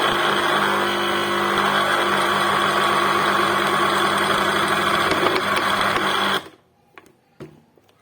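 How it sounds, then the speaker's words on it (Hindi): A kitchen mixer grinder blends ginger garlic paste for a chutney, its motor giving a loud, steady, close whir for about six seconds before cutting out, leaving only a few faint clinks. "थोड़ा थोड़ा इतना इतना करके हम ग्राइंड कर लेंगे"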